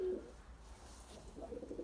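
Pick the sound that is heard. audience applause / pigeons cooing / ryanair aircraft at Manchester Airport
pigeons cooing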